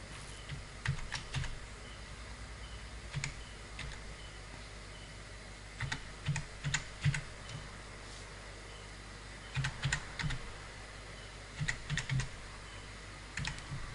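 Typing on a computer keyboard while laying out a business card in CorelDRAW, soft close key clicks in short bursts separated by pauses, over a low steady room hum.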